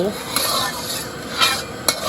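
Cabbage sizzles as it is stir-fried in a hot oiled pan while a utensil stirs and scrapes, with a few sharp metallic clinks standing out over the steady frying hiss.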